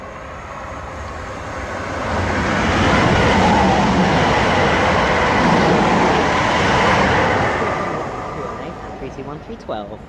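An eight-coach passenger train rumbles past at close range at Romford station, building to a loud sustained roar of wheels on rails, then fading slightly as it continues by.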